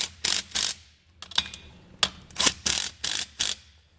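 A ratchet wrench with a 9/16 socket snugs up air helper spring hardware bolts on a 2020 Ford F-250, giving several loud, close bursts of rapid clicking separated by short pauses.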